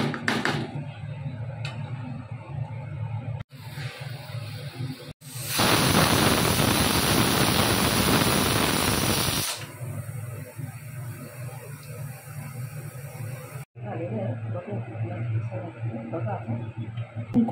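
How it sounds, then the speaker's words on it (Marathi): Pressure cooker cooking basmati vegetable pulao lets out a loud, sustained whistling hiss of escaping steam lasting about four seconds, between stretches of quieter kitchen background. "तर मी या कुकरला सध्या आता फक्त 3 शिट्या काढणार"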